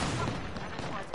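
Gunfire in a PS4 video game, a dense loud burst of rapid shots that fills the whole short moment with continuous crackling blasts.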